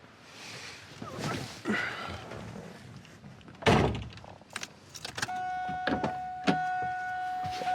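A 1996 Pontiac Trans Am WS6 being entered: a car door thunks shut, followed by small cabin clicks and a steady electronic chime, close up and fairly quiet.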